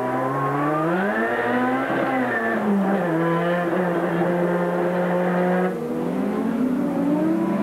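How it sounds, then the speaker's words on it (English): A Group A touring car engine screams at high revs during a 1989 Australian Grand Prix support race, pitch climbing and dropping through gear changes, loud and sustained with no talking. "Let's listen to this engine again."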